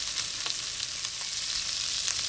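Tomato pieces sizzle in a hot pan for sate beef noodles. The fry is a steady, bright hiss with light stirring taps, close and moderately loud, with no speech.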